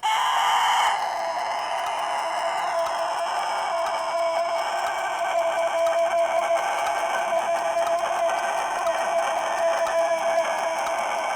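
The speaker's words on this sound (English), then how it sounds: "Nobody really knows how the Denizli rooster is able to sustain his crow for so long." A Denizli rooster lets out one long, sustained crow that holds steady for about ten seconds after a brief opening, loud and close, with nobody talking.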